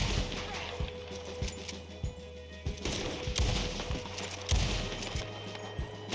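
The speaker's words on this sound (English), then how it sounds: "Did you just shoot at me through that window?" Rapid bursts of gunfire in the video game Red Dead crack out in a dense, uneven string of sharp shots, mostly distant with a few louder nearer reports, over a steady low background hum.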